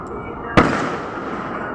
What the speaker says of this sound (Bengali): এই যে বাজি ফাটছে, দেখুন কত সুন্দর লাগছে না